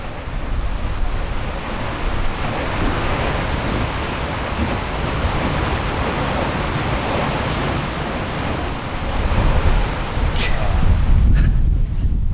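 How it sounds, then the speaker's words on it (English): Strong wind blowing outdoors in Shinju, a windy town, buffeting the microphone with a loud, continuous roaring rumble that surges louder toward the end, with no clear voices over it. "Whew, it is windy here."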